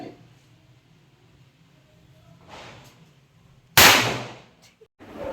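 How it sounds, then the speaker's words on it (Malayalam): Firecrackers set off during a Diwali celebration: one sharp, loud burst rings out and crackles away over about a second, with a quieter pop shortly after and softer bangs earlier, over a low background hum. "അങ്ങനെ കുറേ പടക്കെല്ലാം പൊട്ടിച്ച്"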